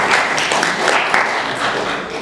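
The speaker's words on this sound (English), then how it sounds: "Give her a round of applause." An audience at a community gathering applauds in a dense, steady wash of clapping that stays loud and close throughout the brief moment.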